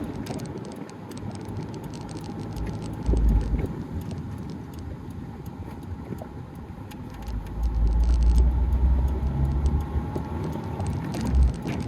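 A Toyota AE86 cruises gently while its temperature is watched, giving a steady interior engine drone with road rumble that swells slightly at times, without speech.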